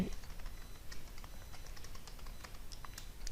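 C code is typed on a computer keyboard in quick, steady, faint key clicks, close up and continuous throughout. No voice is heard.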